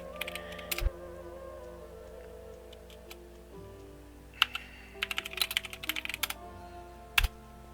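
A computer keyboard being typed on to enter a command, with short clusters of quick, crisp keystrokes separated by pauses over a quiet hum.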